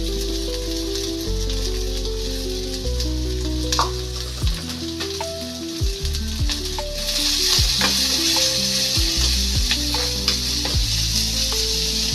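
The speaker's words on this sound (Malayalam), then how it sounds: "നമുക്ക് കുറച്ച് സവാള കൂടി വറുത്ത് കോരി വയ്ക്കാം." Loud, steady sizzling of onions frying in hot oil, with occasional stirring scrapes and crackles, up close and without talking.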